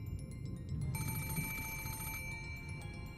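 Telephone bell rings insistently as an in-game sound effect in the Umineko visual novel, a bright electronic trill repeating steadily and loudly throughout, with no talking.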